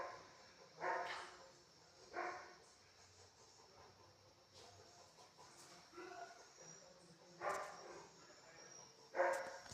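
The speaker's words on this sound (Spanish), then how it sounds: "estos perros de coño no se callan" Dogs bark in several sharp bursts spread across the clip, fairly distant, with fowl clucking faintly in the background.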